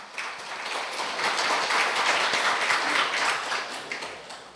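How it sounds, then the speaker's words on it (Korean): Audience applause welcoming a speaker at a database conference, a steady crowd clapping that swells and holds for several seconds. "여러분 환영의 박수로 맞이해 주시기 바랍니다"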